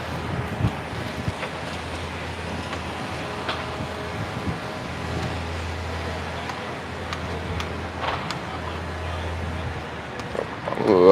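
Breezy wind buffets the microphone outdoors on a downtown San Francisco street, a steady rushing roar with faint city noise underneath.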